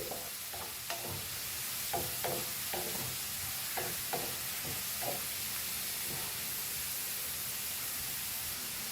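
Food frying in a pan for Goan fried rice, a steady loud sizzle and hiss with repeated scraping stir strokes through the first half, then a smoother constant sizzle.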